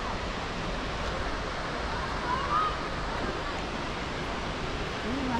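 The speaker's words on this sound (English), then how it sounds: "Oh, look at the waterfall." Bopath Falls, a waterfall in Ratnapura, Sri Lanka, gives a steady broadband rush of falling water that fills the whole stretch, with a faint whistle-like tone drifting through the middle.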